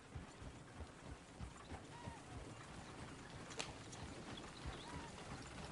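Horse hooves clip-clop steadily on ground in Red Dead Redemption 2, a faint, continuous rhythmic patter under wind and low rumbling game ambience, with no speech over it.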